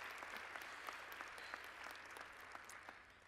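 Audience at an arts awards luncheon applauding, a sustained patter of many hands with a few sharper individual claps standing out, fairly faint and distant in the room, with no speech over it.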